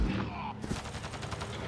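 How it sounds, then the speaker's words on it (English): Gunfire in Mass Effect: Andromeda, a short burst of rapid shots crackling close together, with game sound layered beneath. "They shot him!"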